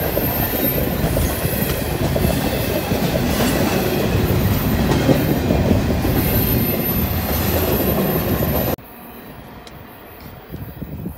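A train rumbles past at close range at Yellowhead Mountain viewpoint in Mount Robson Provincial Park, loud and continuous with clattering wheels and metallic squeal, then cuts off abruptly to a much quieter background.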